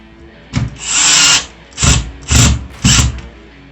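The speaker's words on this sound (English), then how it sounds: "Put it right into this hole and tighten her down." A power drill tightens small screws while fitting a Philips touchscreen smart deadbolt lock, sounding as four loud, close whirring bursts, one long and three shorter, with brief pauses between them.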